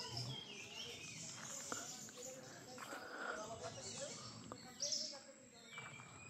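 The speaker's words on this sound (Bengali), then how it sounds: "পাখির ডাকটা শোনা যাচ্ছে।" Birds call in a forest near Devkund waterfall at Tamini Ghat, Maharashtra. Faint, scattered chirps and tweets rise over a steady wash of ambient noise, with insect-like trills in the background.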